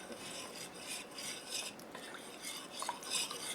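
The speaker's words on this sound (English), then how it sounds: "And now I'm going to use my trusty Swedish whisk" Sourdough being mixed with a Swedish whisk in a bowl: a steady, close scraping and stirring rasp with soft clinks, continuous for a few seconds with no voices.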